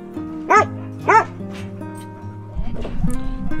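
Dogs out on a walk through a forest bark twice in quick succession, sharp and fairly close, followed by rustling and soft outdoor noise.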